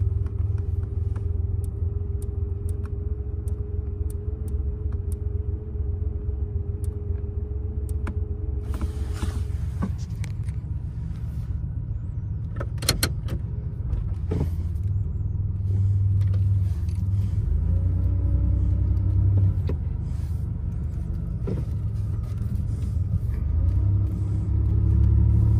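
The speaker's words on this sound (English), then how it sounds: "Car's fully warmed up now." A one-owner, fully warmed-up 1987 Buick Grand National engine rumbles steadily from inside the car while cruising, a deep continuous drone with shifting revs and a few creaks, no talking.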